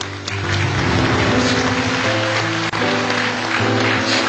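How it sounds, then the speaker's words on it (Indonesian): Loud, sustained audience applause at a televised Indonesian religious talent show, dense continuous clapping filling the room for several seconds without a break. "Tepuk tangan buat Bali dulu."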